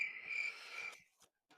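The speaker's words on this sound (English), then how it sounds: "There you go. Crickets." A crickets chirping sound effect plays as a steady, high, shrill trill for about a second, then cuts off, leaving a few faint scattered chirps in near silence.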